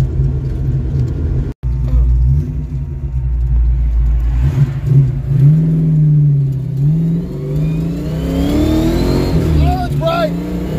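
A Ford Mustang driven on its first night cruise, its engine rumbling close and revving with rising and falling pitch, with people talking over it inside the car.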